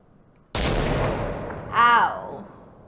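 BFG gun fired in a video game, a sudden loud blast that trails off into a rumbling decay, followed by a brief warbling electronic tone.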